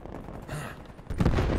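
MAC-10 submachine gun firing in a video game: a brief, fairly faint burst of shots near the end, after a quieter, muffled stretch.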